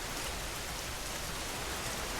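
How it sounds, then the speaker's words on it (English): Steady rain falls in the video game Schedule 1, a dense, even hiss of drops on surfaces that runs unbroken and fairly loud with no pauses. "Like how it's raining right now."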